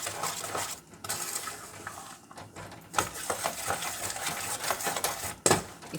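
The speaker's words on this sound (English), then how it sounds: "In the meantime, we're going to stir this up." Food is stirred in a pan during simple home cooking alongside salted aubergines, with irregular close clinks and scrapes of a utensil against metal over a low sizzling background.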